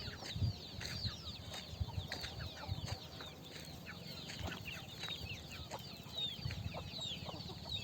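Village country chickens and roosters on a small farm, clucking continuously in a busy flock with overlapping calls and a few sharper squawks, moderately distant and steady throughout.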